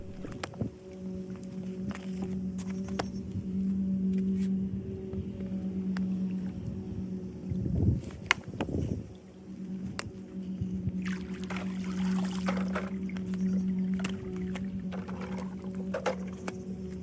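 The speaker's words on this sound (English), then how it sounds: "switch off all the pumps and then pull out the Polaris" A Polaris pool cleaner is lifted out of backyard pool water, giving a brief splash and dripping roughly midway through over a steady low equipment hum.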